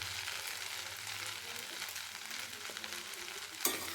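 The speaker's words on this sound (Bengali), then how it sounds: "আর একটু ভালোভাবে ফ্রাই করে নিয়ে তারপরে আমি কিন্তু সসটা দেবো" Chowmein noodles fry in a hot pan with a steady, close sizzle and occasional stirring scrapes, ending in a brief sharp clatter near the end.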